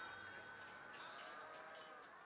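Cattle in the video game Farthest Frontier lowing softly: a faint drawn-out moo sits in a hazy, steady ambient bed, distant and quiet.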